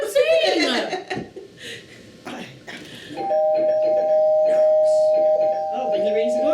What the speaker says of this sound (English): Oh, but he rings the doorbell.